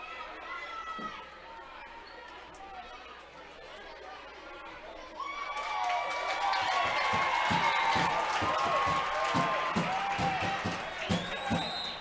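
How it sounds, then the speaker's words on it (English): High school volleyball crowd in a state tournament gym, with murmuring chatter swelling into a brief, warm cheer and some claps, thumping footfalls and squeaks echoing under scattered voices. "And the crowd gives them a little cheer, getting the score right."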